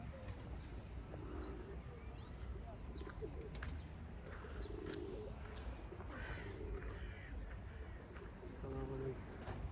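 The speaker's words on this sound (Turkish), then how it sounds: "Karşıda da bizim diğer kuşlardan uçuyor." Pigeons fly and call outdoors on a fine day, their soft cooing and bird calls rising in scattered bursts over steady background noise, with voices heard talking nearby.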